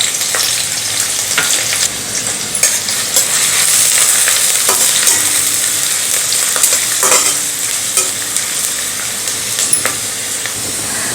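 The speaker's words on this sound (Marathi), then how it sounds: "कांदा छान लालसर होईपर्यंत आपल्याला भाजून घ्यायचा आहे" Bay leaf and sliced onion fry in hot oil for a Konkani chicken curry, giving a loud continuous sizzle and hiss with repeated scraping strokes of a spatula as the onion is stirred.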